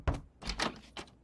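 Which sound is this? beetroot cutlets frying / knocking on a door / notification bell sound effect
knocking on a door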